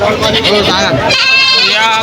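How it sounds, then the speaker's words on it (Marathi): Loud, close bleats of Kota and Totapuri goats at a livestock market, one wavering cry followed by another, with people talking around them. "यांच्याकडे शेळ्या भरपूर अशा मस्त शेळ्या आहेत"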